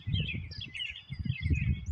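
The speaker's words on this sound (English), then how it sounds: "that bird should have sat there all day." A bird chirping close by, quick high tweets repeating in short bursts over a low rumbling background, with no talk.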